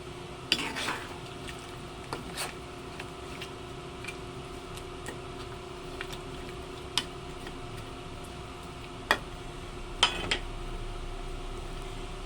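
Chicken curry cooks in a pan as curry is added, a steady low sizzle under sporadic sharp clinks and scrapes of a utensil against the pan.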